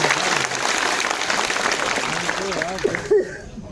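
A crowd at a welcome gathering for a minister in Ambedkar Nagar applauds loudly and steadily, the dense clapping holding for a few seconds before breaking off as a voice chuckles and speaks at the end.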